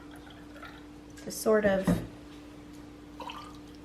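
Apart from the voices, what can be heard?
pouring white grape juice into cocktail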